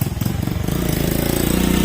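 A motorcycle engine runs close by, loud and steady with a rapid pulsing putter throughout.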